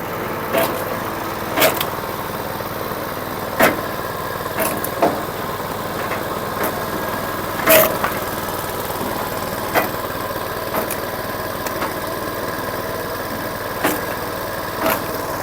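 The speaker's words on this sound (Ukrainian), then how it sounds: "Двіжок 7 кінських сил, бензиновий з інверторним генератором який видає 220 на лебедку" A 7 hp petrol engine with an inverter generator runs a log splitter. It holds a steady, close mid-pitched drone like an idling engine, with soft thumps recurring every couple of seconds.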